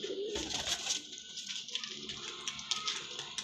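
Pigeons coo softly close by amid a hiss of broadband noise, with scattered fluttering and shuffling sounds.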